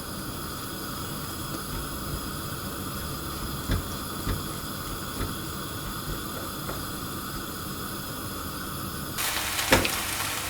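Ground meat cooks in a frying pan with a soft, continuous sizzle and hiss, a few faint scrapes as it is broken up, and a louder burst of sizzling near the end.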